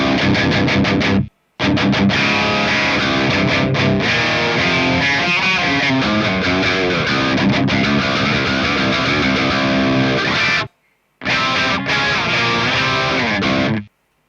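Distorted electric guitar playing a riff through an EQ pedal set to boost the highs and cut the lows, loud and close with two brief gaps of silence.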